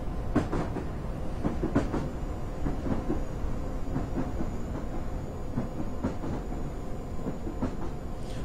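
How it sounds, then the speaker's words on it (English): In the Train Simulator 2015 video game, a train arrives on the South London to Brighton line with a steady rail rumble and repeated clickety-clack wheel clicks over the track joints, moderately loud and continuous. "That's nice though. Train coming in like that as you come in,"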